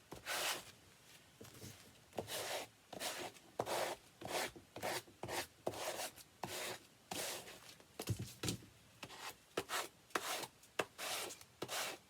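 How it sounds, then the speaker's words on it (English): Sandpaper wrapped on a wooden block rubs back and forth over a surface in quick, regular strokes, making a close, dry rasping scrape that repeats steadily with short pauses between bursts. "I have a block of wood with some sandpaper on it. And we're just gonna do this."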